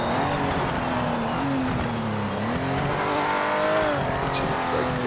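A race car in Project Motor Racing slows hard into a corner, its engine droning loud and steady in a shifting tone with a faint tire scrub, heard close from the cockpit throughout without any commentary.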